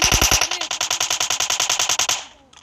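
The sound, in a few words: gunfire in a video game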